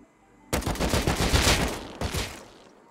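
Gunfire in Rust, a sudden close burst of rapid shots that rattles on for about a second and a half, then a second short volley before it fades out.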